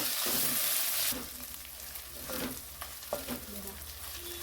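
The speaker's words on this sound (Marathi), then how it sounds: "आता आपण यामध्ये ना आलं लसणाची पेस्ट घालूया परतून घेऊया आलं लसणाचा छान सुगंध येईपर्यंत" Ginger garlic paste sautés in hot oil for a soya chunk and peas keema, with a sharp burst of sizzle when it goes in, then a softer steady frying hiss and a few stirring scrapes nearby.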